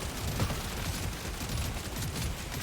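Engineer's turrets in Deep Rock Galactic: Survivor fire a dense, continuous stream of rapid shots, layered into a steady wash of gunfire with no pauses.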